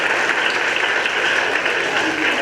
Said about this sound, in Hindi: इस बच्ची के लिए सभी लोग जरूर ताली बजाएं।